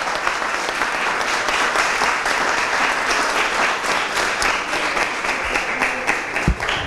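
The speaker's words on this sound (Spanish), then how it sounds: "Vamos a darle un fuerte aplauso a los Foques." An audience at a talk on urban music gives a strong, sustained round of applause, loud and dense throughout with no break.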